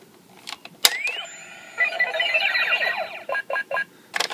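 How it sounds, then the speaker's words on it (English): A Power Rangers Megaforce Deluxe Gosei Morpher toy gives an electronic error sound: a sharp click, rising synthetic tones and a warbling electronic burst, then several short, evenly spaced beeps, close and clear with no talking. "So beep at you, because it can't read a card."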